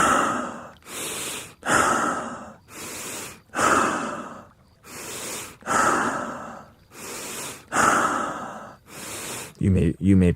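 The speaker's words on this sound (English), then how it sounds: "And then you begin with stomach breathing." Slow stomach breathing during a relaxation exercise: about eight long, breathy inhales and exhales in a steady rhythm, close and clear, each separated by a short pause.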